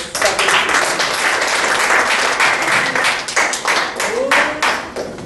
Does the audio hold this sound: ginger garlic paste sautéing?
no